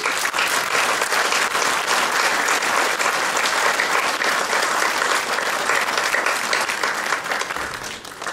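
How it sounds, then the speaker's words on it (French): An audience at a 2017 New Year's greetings ceremony breaks into loud, close, sustained applause, a dense steady clatter of many hands that tapers slightly at the end. "Vous pouvez l'applaudir aussi."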